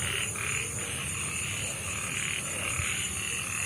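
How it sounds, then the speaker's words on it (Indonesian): Frogs croak in a steady chorus outdoors at night, with regular pulsing calls repeating about every half second over dense background noise and no voices. "Saya merasakan ada suara kodok di sini Mas."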